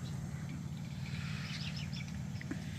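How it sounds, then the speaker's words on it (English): Several small birds chirp faintly in quick, scattered bursts over a constant low traffic rumble in the background. "You hear them birds."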